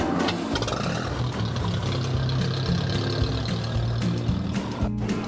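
A Ferguson tractor engine, a Fergie at a vintage rally, fires up and runs with a loud, rough, continuous rumble and clatter, close by.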